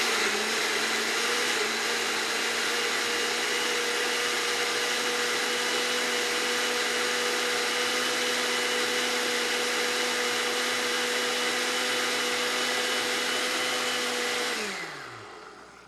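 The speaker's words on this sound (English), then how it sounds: "So we're going to put the top on the blender." A countertop blender whirs steadily for about fifteen seconds, blending kale and pineapple with almond milk, a loud, even motor drone with no talk that winds down and stops near the end.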